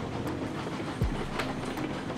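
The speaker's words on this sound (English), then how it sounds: "So you can drop the train off." A train rolling along rails in the railroad simulation game Railroads Online gives a steady, full rumble with faint rhythmic clicks and one brief low thump, heard alone without talk.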